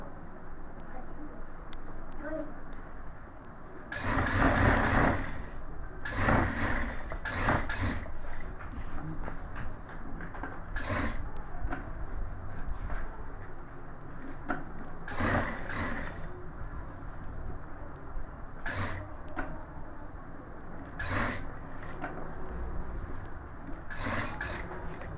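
A sewing machine double-stitches a gents suit in short bursts of running stitches separated by pauses, with a steady low background hum throughout.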